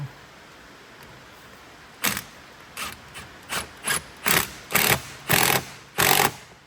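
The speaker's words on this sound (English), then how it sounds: "Just tighten down that clamp." A clamp being tightened by hand during spark plug replacement on a 2011 Nissan Rogue 2.5L, heard as a series of short, close scraping and ratcheting strokes that come faster and louder over the last few seconds.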